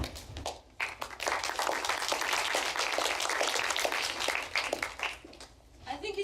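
Audience applause at an academic talk on mental health and economics, a dense run of clapping for several seconds that swells and then thins, with a voice heard over the end.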